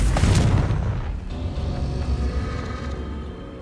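Loud blasting-curse explosion from the Hogwarts Legacy video game, a sharp booming burst up front that decays into a long rumbling tail of debris and low roar.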